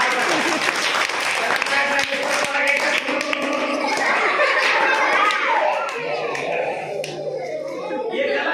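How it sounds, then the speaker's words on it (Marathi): An audience of students claps loudly and steadily throughout a talk on learning arts, with scattered laughter and chatter mixed into the sustained applause. "जोरात टाळ्या वाजवा"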